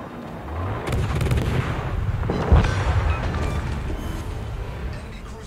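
Naval gun salvos and shell explosions in the World of Warships video game: a series of booming shots with one especially heavy blast midway, set over a steady rumbling battle background.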